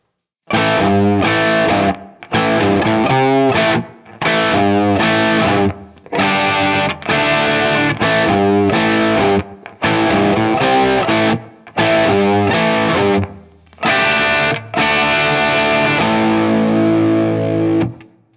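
Distorted electric guitar plays a section of a song in loud, choppy bursts of chords and riffs separated by short silences, ending on a sustained chord that fades.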